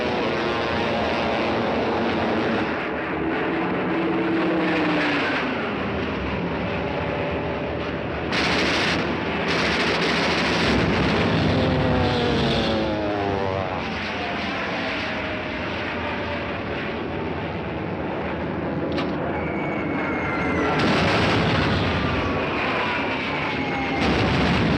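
Bomber aircraft attack a village in a war film, with a steady droning engine roar throughout, bursts of machine-gun fire, whistling falling bombs and heavy explosions rising and fading over nearly twenty-five seconds.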